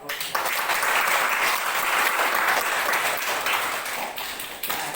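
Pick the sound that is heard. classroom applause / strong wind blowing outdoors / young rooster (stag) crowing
classroom applause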